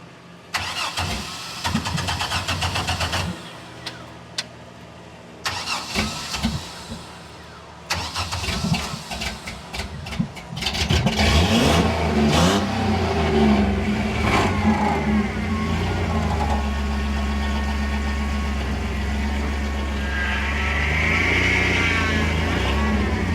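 A 1974 Jeep CJ-5, just fitted with new slave cylinders and bled brakes, cranks in several bursts before catching, then revs and settles into a loud, steady running rumble close by.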